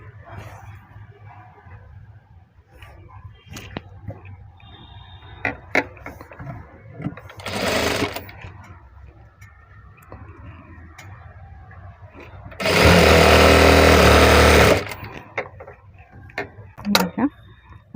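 A sewing machine stitches one side of a cloth bag made from waste fabric. A short burst of running is followed later by a longer, louder two-second run, with scattered clicks and handling knocks in between.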